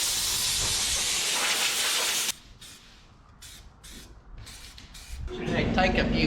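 A spray gun shoots paint onto a car body for blending, giving a loud steady hiss. It cuts off abruptly, short spurts follow, then the spray resumes.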